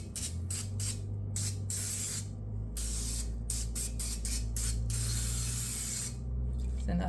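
Cooking spray hisses from a can onto a hot waffle iron in a series of short bursts, each a sharp airy spritz, repeated about ten times over a steady low hum.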